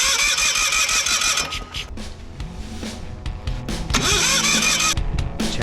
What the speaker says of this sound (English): I have got an old generator welder that I'm going to try to get going today